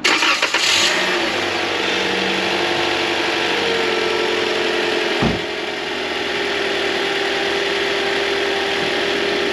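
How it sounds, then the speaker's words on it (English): 2015 Toyota Corolla engine starting outdoors in winter, a quick cranking burst that catches and settles into a steady close idle hum, with one brief knock midway. "I'm going to go ahead now and start the vehicle."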